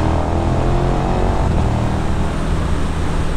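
A 2020 KTM 1290 Super Duke R motorcycle engine droning loud and steady while being ridden, with strong wind rush over the rider's microphone and a slight shift in tone midway.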